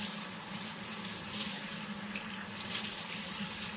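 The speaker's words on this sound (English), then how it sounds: "My sink is already a mess, but I still want to rinse it out." Tap water runs steadily into a sink for rinsing, a continuous close hiss and splash with no breaks.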